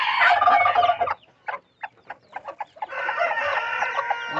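A bantam hen and her chicks raise a loud chorus of dense chirping and clucking, break into a few short separate calls, then resume the steady chattering, with no voices.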